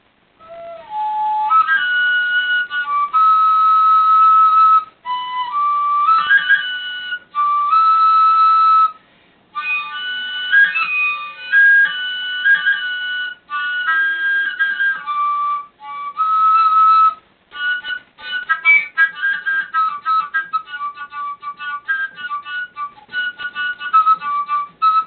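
A homemade fae flute is blown, giving breathy, high whistle-like tones in short melodic phrases and sustained notes, played solo and close with brief pauses between runs.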